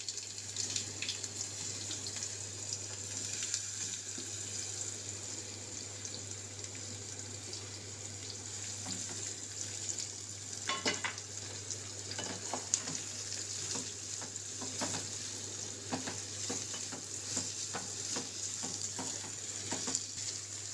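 Soft steady sizzle of instant mango pickle cooking in hot tempering oil, with a low constant hum and scattered stirring clicks, fairly quiet throughout.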